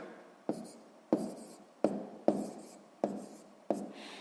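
Pen strokes scratch on paper as numbers are written by hand for a sixth-grade addition sum, six short, evenly spaced scribbles at close range in a quiet room.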